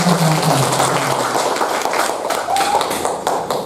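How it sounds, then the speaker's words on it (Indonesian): A crowd at a school event claps together in steady, dense applause that fills the room for a few seconds, with a faint murmur of voices underneath. "Kita tepuk tangan dulu sebentar ya"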